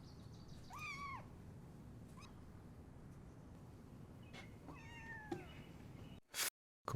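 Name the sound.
cats meowing in a TV show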